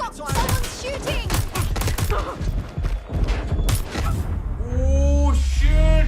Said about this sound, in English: I got someone shooting!